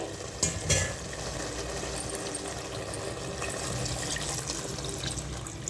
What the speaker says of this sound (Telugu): 1 గ్లాస్ నీళ్ళు పోద్దామండి